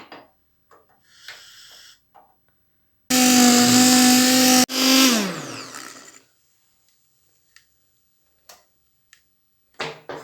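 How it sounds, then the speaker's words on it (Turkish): A kitchen blender purees tarhana soup, whirring loudly for a couple of seconds, cutting briefly, then spinning down, with quiet handling clicks and taps around it. "Arkadaşlar çorbamızı blenderdan güzelce pürüzsüz bir kıvam alana kadar çekelim"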